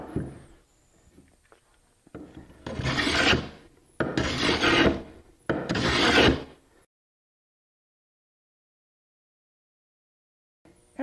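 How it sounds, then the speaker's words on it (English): Oak pieces being hand sanded for a wooden treasure chest, three loud, steady rasping strokes of a couple of seconds each in close succession, followed by silence with no talk. "I'll start some finish sanding."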